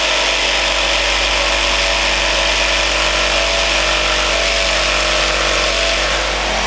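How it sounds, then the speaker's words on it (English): Jigsaw with a sharp blade cutting wooden pieces for an air rifle stand: a loud, steady buzzing rasp held close and continuous throughout. "cut it out again with a jigsaw, being as neat as you can and following the lines"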